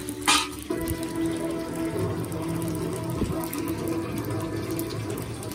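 Water running steadily from a tap, a continuous hiss and splash after a brief sharp clatter at the start.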